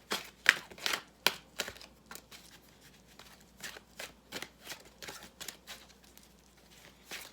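A deck of tarot cards shuffled by hand, giving a steady run of soft, crisp riffling flutters and slaps that repeat roughly every half second, close and quiet with no talk over them.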